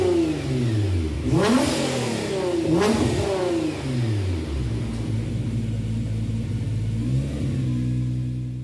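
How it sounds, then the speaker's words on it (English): Nissan GT-R VR38DETT twin-turbo V6 engine swap in Gran Turismo 7, revving repeatedly with rising and falling pitch sweeps, loud and close throughout, no talking. "Next up we have the VR38 DETT GTR Nismo swap."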